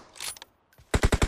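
Gunfire in a battle royale video game: a quiet, scattered stretch with a short gap, then a tight run of four or five loud, evenly spaced shots cracking out in quick succession at the end.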